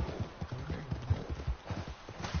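Horse hooves clip-clop in the Red Dead video game, a quick, steady rhythm of close hoofbeats that carries on throughout without any talking.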